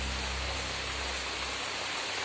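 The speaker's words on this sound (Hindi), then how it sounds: "जोरों की बारिश लगे हुई है।" Steady, dense roar of heavy rain pouring down, close and continuous with no pauses or voices.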